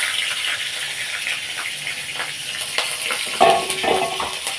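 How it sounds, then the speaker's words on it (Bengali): Slit green chillies hit hot oil that was just used to fry shrimp, with more oil added, producing a close, crackling sizzle, scattered spits and a sharper burst of frying near the end. "3টা চেরা কাঁচা লঙ্কা আমি ওই তেলের মধ্যে দিয়ে দেবো।"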